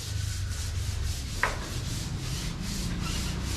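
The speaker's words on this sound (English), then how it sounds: "They're sanding, and there's a couple people finishing up the skim coating." Workers sand a skim-coated wall on a house build in Antique, Philippines, making repeated rhythmic rubbing strokes, with one brief sharper scrape midway. The sound is moderately close and continuous.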